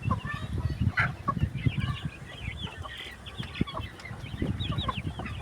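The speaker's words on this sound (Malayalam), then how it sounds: "അടിപൊളി പൂവനാണ്." A rooster clucking on a poultry farm, repeated low throaty clucks close by over a busy background of other chickens calling, with faint voices underneath.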